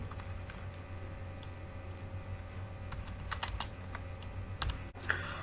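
Typing on a computer keyboard comes as quiet, scattered key clicks with short bursts of several quick taps over a steady low hum, with no talk.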